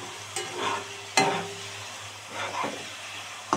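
Tomato with ground cumin, coriander, dried chili and mustard powder frying in oil, making a soft sizzle broken by a few scraping stirs.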